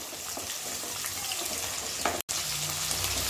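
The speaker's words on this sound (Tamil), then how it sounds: "சின்ன வெங்காயம், பூண்டு, கருவேப்பிலை இதெல்லாம் சேர்ந்து எண்ணெயில் பொரியும் போது நல்ல டேஸ்ட்டு தரும்" Shallots, garlic and curry leaves fry in oil for a brinjal curry, producing a loud, continuous close-up sizzle with occasional crackles and a brief break near the end.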